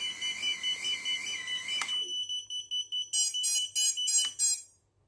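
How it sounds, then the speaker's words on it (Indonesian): Electronic beeping tones from a cinewhoop FPV drone's buzzer: a steady tone, then a rapid series of sharp, loud beeps in quick bursts, like a small buzzer alarm, with no voices. "Yang atas ini untuk buzzer."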